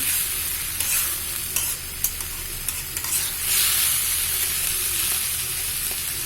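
Turmeric and coriander powder frying in a pan for a bottle gourd dish, a continuous sizzle broken by repeated scraping stirs and light clinks from a spoon, with no voices.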